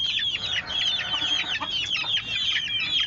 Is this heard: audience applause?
no